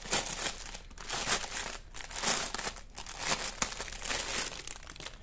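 Crinkly plastic packaging being torn open and unwrapped from a diamond painting roller tool, steady close crackling and crumpling for several seconds with short pauses, no talking.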